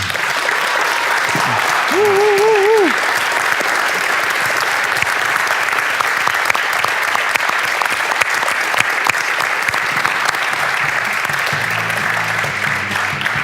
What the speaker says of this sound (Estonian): teeme korraliku tiigritele omase aplausi ja kisa neile.